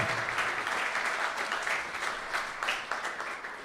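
Crowd at a political tour event in Los Angeles applauding as a guest walks up, a sustained, even patter of many hands clapping, moderately loud and continuous from start to finish.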